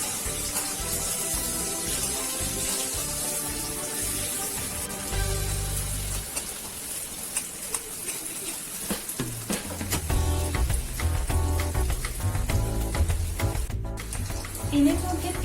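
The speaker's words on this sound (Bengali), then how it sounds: "তেলের মধ্যে পেঁয়াজ এবং মরিচ ঢেলে দিন।" Chopped onion and chili hit hot oil in a wok while noodles are being made, a bright crackling sizzle that swells as the pan is stirred, with a voice speaking over it.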